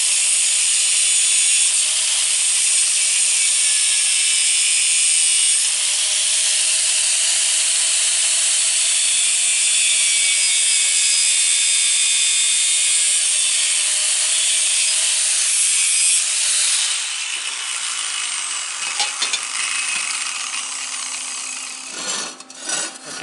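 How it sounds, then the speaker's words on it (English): A power grinder bears steadily on metal on a bevel siding jig, a loud continuous close-up whine with a slight pitch drift, tapering off and stuttering near the end as it lifts from the work. "Again, I have to grind this all off of here. It'll be better as I grind that."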